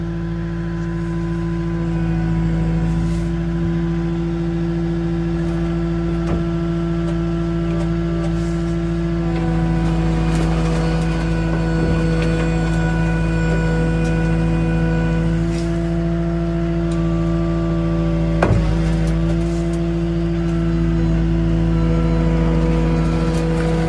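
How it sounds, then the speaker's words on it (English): Skid steer engine idling steadily and close on a small ranch, a loud continuous diesel drone with a constant hum that runs unbroken throughout. "Skid steer controls, joysticks require both hands."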